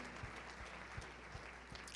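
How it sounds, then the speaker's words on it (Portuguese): A church congregation claps steadily, a dense wash of applause with no voices standing out. "Podemos agradecer e aplaudir a Jesus."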